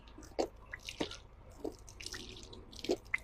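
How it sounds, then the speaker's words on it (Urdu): Small water splashes and drips come in short, scattered bursts, close by and faint, as water is used to rinse the mouth during wudu ablution. "اس کے بعد ہاتھ کلی 3 دفعہ کرنی ہے"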